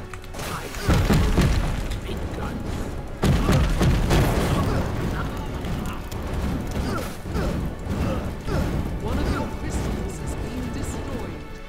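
Booming cannon shots with crashing impacts in the free Steam video game BattleSouls, loud and repeated throughout amid dense game noise, with a player talking over them.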